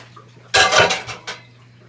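A metal noodle pan clatters and clanks as it is handled and set away in a home kitchen, a few loud bumps in a short burst over a steady low hum.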